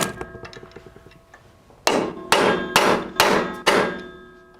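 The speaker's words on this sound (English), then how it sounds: "I'm just chipping away at the metal on the bracket to try and get the socket in here." Metal being chipped away on a Jeep JL corner guard bracket: after a few light taps, five loud, sharp ringing strikes land about half a second apart, each with a metallic decay.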